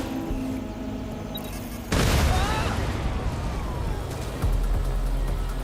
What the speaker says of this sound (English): You got double explosions.